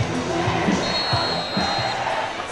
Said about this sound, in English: Student section's roaring right now for Walton.